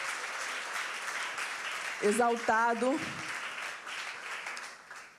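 A church congregation claps in praise, a steady broad wash of hands that runs the whole way, while a voice briefly sings or calls out partway through.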